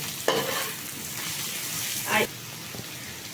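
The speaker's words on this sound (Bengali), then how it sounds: "আলুগুলোও বেশ লাল লাল করে ভাজা হচ্ছে" Potatoes and onions frying in a pan for a chicken dish, a steady close sizzle with a couple of brief louder bursts as the pieces are turned and stirred.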